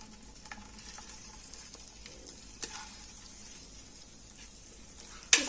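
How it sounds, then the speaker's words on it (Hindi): Dry fruits frying in a hot pan, a quiet steady hiss with soft crackles, a few scattered clicks and one sharp knock at the end, no voices. "थोड़ा सा पैन जैसे ही गर्म हो जाएगा तो मैं इसके अंदर सारे जो ड्राई फ्रूट्स हैं वो डाल दूंगी"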